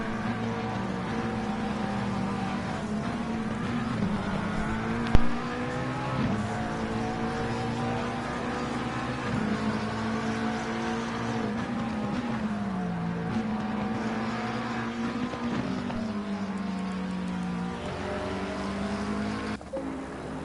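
GT3 race cars, including an orange Bentley and McLarens, racing at Mount Panorama in a racing game: a steady engine drone with repeated rising and falling revs as gears shift, one sharp bump partway, and no talk.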